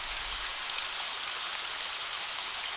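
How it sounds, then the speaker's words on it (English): An AI-generated waterfall sound made from an image: a steady, dense hiss of falling water, continuous and moderately loud, with no voices. "it sounds like a waterfall"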